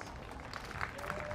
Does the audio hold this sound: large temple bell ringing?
no